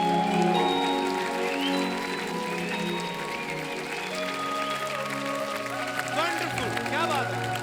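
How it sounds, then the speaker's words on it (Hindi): A studio audience on The Kapil Sharma Show claps in a steady, dense wash of applause under sustained music, while a voice speaks over the clapping. "एक बार जोरदार तालियां पूर्वी जी के लिए"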